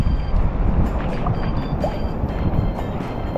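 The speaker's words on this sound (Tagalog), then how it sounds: "lakas ng hangin" Strong wind roars and buffets the microphone continuously, a dense low rumble with no voices.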